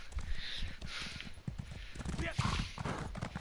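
Hooves clip-clop in a video game as a horse moves at a steady trotting rhythm, fairly close and distinct, with brief game noises layered over the footfalls.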